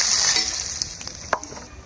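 Dried red chillies tempering in hot hilsa fish oil topped up with more oil, a bright crackling sizzle close to the pan with a few sharp pops and stirring scrapes, fading slightly over a couple of seconds.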